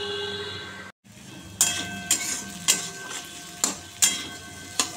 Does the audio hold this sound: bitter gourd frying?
yes